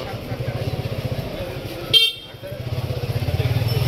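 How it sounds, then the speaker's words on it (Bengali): A motorcycle engine putters with a rapid pulsing beat near a cattle market street, broken by a sharp horn honk midway before the engine throb resumes, close and fairly loud. "মোটরসাইকেল ঢুকানো যাচ্ছে,"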